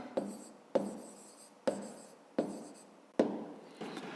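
Pen or pencil writing by hand on paper while working out the answer to a fifth-grade maths exercise, heard as five short scratchy strokes repeating about every second, close and quiet, with no talk.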